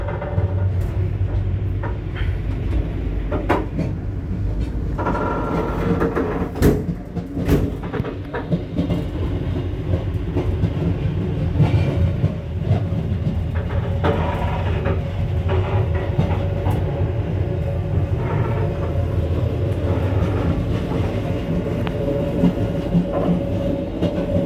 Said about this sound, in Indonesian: Kereta api Motis Selatan akhirnya tiba di stasiun Cipende, telat lebih dari 30 menit.